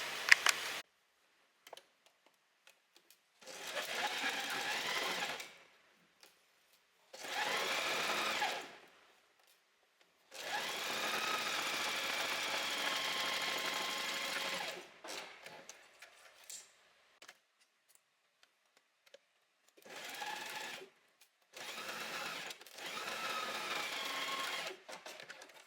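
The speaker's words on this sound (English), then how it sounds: "So we're going to sew here" A sewing machine stitches the fabric of a beginner blouse in repeated runs of steady whirring that last a few seconds each, with quiet pauses between bursts, close and clear.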